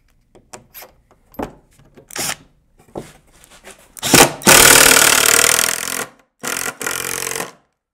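A power tool drives construction screws into wooden basement wall framing, with scattered knocks and handling taps first, then two loud sustained whirring bursts as screws are driven home.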